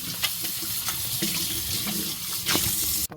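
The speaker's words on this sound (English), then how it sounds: "first, I'm going to wash my saltfish" Tap water runs steadily into a sink as saltfish is washed beneath it, a close, continuous splashing rush with a few louder splatters before it cuts off abruptly near the end.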